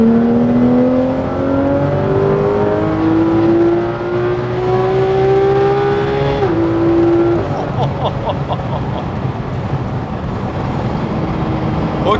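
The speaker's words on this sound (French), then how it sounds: "on va profiter maintenant de ce petit bout de ligne droite pour écouter ce moteur légendaire" A Porsche 991 GT3 RS with its high-revving 500-horsepower flat-six, loud and close from the cabin as it pulls hard along a short straight, pitch climbing through the gears with a brief dip at a shift before it settles.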